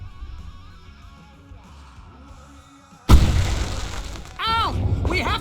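Fireworks going off in Alan Wake Remastered, a sudden loud burst after quiet, followed by crackling rumble and whistling streaks, with voices shouting over the noise.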